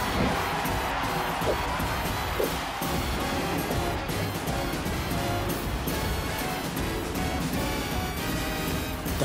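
A crowd applauds and cheers in an animated football cartoon, Supa Strikas. The roar is loud and dense and runs without a break for about nine seconds.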